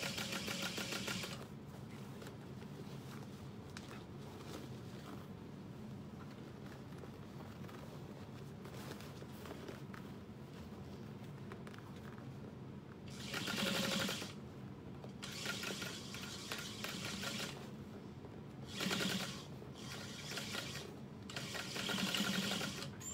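Short stop-start bursts of a sewing machine stitching a Harriet bag by Swoon Sewing Patterns, rapid mechanical ticking separated by quieter gaps of handling, with no talking.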